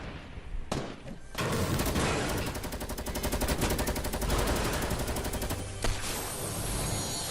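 Suppressed pistol fire in Fortnite, rapid repeated shots in a steady dense burst lasting several seconds, loud and close, with a few isolated shots before and after.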